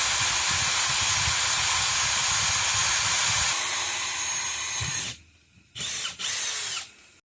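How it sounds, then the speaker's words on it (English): Power drill boring new mounting holes for a fuel pressure regulator on a turbo D15 engine build, a steady loud whirring grind for about five seconds that cuts out, then two short bursts. "Finally got this thing drilled out."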